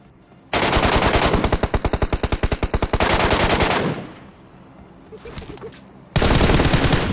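Rapid automatic gunfire from MK and M4 rifles in the mobile shooter BGMI: a loud sustained burst with distinct rhythmic shots, a pause with quieter game noise, then another loud burst.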